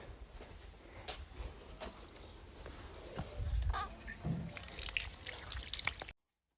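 Water runs and splashes as hands are rinsed, with scattered drips and rubbing sounds, fairly faint, ending abruptly.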